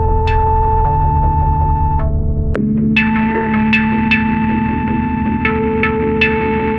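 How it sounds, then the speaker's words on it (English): A synth runs through a Drolo Kiwami pedal, holding loud steady tones with a thick, buzzing low end while bright notes shift and pulse on top, continuous with no talking. "So first I'll be plugging my synth into the Kiwami"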